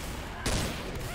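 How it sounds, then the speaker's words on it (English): Gunfire in the zombie shooter Left 4 Dead 2 during a tunnel section of the Dark Carnival campaign: one sharp, loud burst of shots that cuts in partway and rings briefly. "How many times I gotta shoot him?"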